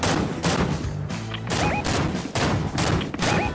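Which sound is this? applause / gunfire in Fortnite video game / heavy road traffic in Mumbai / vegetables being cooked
gunfire in Fortnite video game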